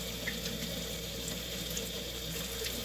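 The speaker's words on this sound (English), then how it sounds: "washing my hands again" Steady running tap water splashing over hands at a kitchen sink while washing between handling seasoned raw chicken, a continuous close wash with no talking.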